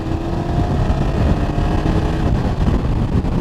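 A BMW F900GS motorcycle pulls hard in 4th gear at around 45 mph while merging onto a motorway, its steady engine drone and wind rush filling the whole stretch without a break.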